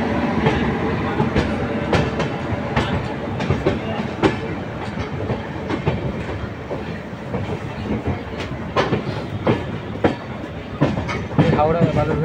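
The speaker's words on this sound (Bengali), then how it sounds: "সুন্দরভাবে কার্ভ নিচ্ছে আমাদের এলএইচবি বালুরঘাট এক্সপ্রেস।" An LHB Balurghat Express runs on rails through a curve, with a loud continuous rumble and a rapid, irregular clatter of wheels over rail joints throughout.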